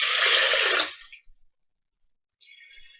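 Water poured into a blender for a pea DNA extraction experiment, a brief bright splashing rush that stops after about a second, then a faint trickle.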